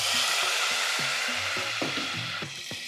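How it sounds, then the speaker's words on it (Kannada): Fresh mint and fenugreek leaves fry in hot oil for a green mutton curry, giving a steady loud sizzle with scraping, stirring strokes throughout and no voices. "ಮೆಂತ್ಯ, ಪಾಲಕ್ಕು ಇದನ್ನೆಲ್ಲ ಹಾಕಿ ಚೆಂದ ಹುರಿದು ಮಾಡೋದು"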